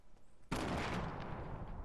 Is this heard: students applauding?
no